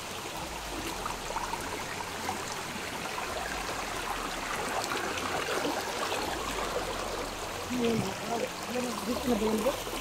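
A stream flows steadily with a constant trickling, rushing wash that holds at an even level from start to finish, and a few voices talk faintly beneath it near the end.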